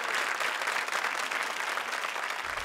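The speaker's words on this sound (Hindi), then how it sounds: "जोरदार तालियां" Studio audience of a televised comedy contest show bursts into dense, sustained applause, loud and continuous for the whole moment with no voices on top.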